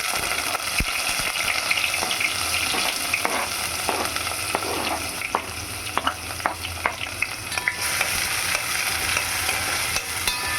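Chopped onions fry in hot oil with tempered spices for a wheat-flour onion dosa, a steady close sizzle broken by repeated scraping stirs of a spatula in the pan.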